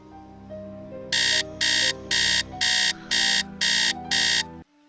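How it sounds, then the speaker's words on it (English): Large alarm clock in a Nancy Drew mystery video game rings out in seven loud, evenly spaced electronic bursts over soft background game music, then cuts off abruptly. "We use the large alarm clock."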